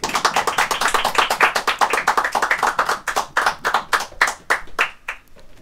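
Studio audience claps for the band at Vodafone FreeZone Studio, brisk close clapping from a small group that thins out and fades toward the end.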